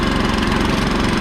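A garden tiller's engine runs steadily while lightly tilling a strawberry row, a loud, continuous mid-pitched drone with a fast throbbing pulse and no breaks, close to the listener.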